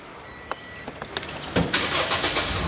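A used car is started with its push-start button, giving faint clicks and then a sudden engine crank that settles into a steady, fairly loud idle.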